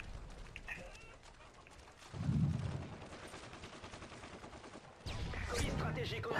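Gunfire in the video game Modern Warfare 3, bursts of rapid shots from an online match, heard mid-level amid game noise, with a louder stretch near the end.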